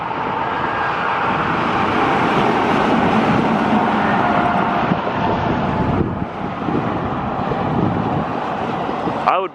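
A car passes by close on a freeway with a loud whooshing tire and wind roar that builds and then fades, followed by a quick dip and a second rush at the end.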